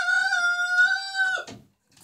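A Jersey Giant rooster lets out a long, clear crow held steady for well over a second before it breaks off, close and fairly loud against a quiet background with a faint rustle after.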